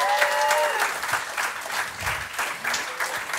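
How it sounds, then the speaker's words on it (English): A late-night show audience breaks into applause, a full wash of clapping with a few whoops and voices mixed in, sustained and fairly close throughout. "How about an applause for him?"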